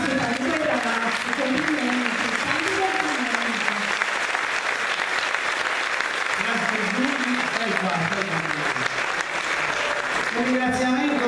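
Steady, loud applause from a crowd at a school orchestra concert fills the whole stretch, with voices and cheers mixed in throughout.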